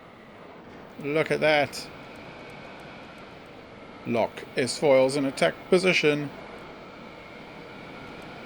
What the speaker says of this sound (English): Lift up the nose, turn on the engines.